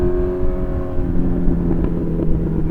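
A Honda CB1000R motorcycle's engine and exhaust while riding around town, a loud, steady, close-up rumble with a slight rise and fall in revs and a few sharper exhaust pops near the end.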